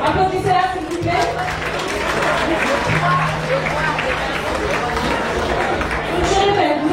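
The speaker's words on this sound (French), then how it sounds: "Applaudissez-la s'il vous plaît" Audience applause at a Miss Centrafrique pageant for a contestant, a broad wash of clapping mixed with crowd chatter and cheering, loud and sustained throughout with voices babbling underneath.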